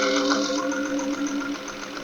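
Sewing machine stitching a 1/4 inch seam on a recycled towel potholder, a continuous steady mechanical whir with a tonal hum, loud and close, running without pause.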